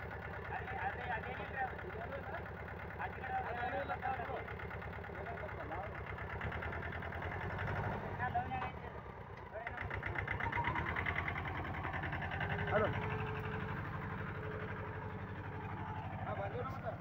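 A Trackstar 525 4WD mini tractor engine runs continuously while being tested in a field, a steady mid-pitched rumbling drone throughout with a brief dip midway, and voices talk over it.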